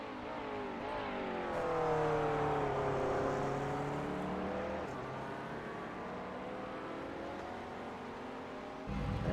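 A GT3 race car in a racing video game roars across the finish line at Bathurst, its engine note climbing and holding steady at high revs, loud and continuous with no talk.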